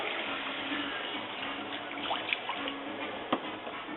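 Chicken stock pours into a pan of onion roux with a steady liquid splash and trickle, gentle and close, with a few small clinks near the end.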